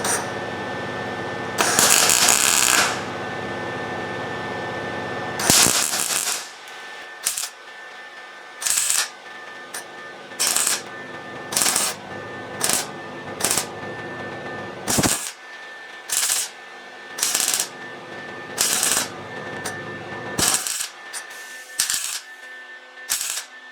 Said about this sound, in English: I'll just keep on adding tacks around and around